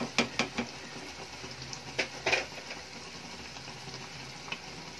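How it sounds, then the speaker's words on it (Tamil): Rava kesari cooks in a pan with half a cup of ghee as it is stirred, with a few quick scraping and clinking strokes over a low, steady background sizzle. "ஒரு அரை கப்பு நெய் இது கூடயே சேர்த்துக்கோங்க எல்லாம் மிக்ஸ் ஆகிட்டு வரும்"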